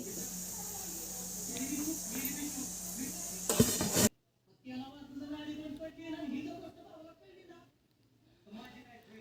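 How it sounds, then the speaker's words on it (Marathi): A rolled puran poli lands on an oiled tava and sizzles with a broad hiss for about four seconds, then the sound cuts off abruptly and a woman's speech follows. "पोळी टाकलेली आहे तव्यावरती"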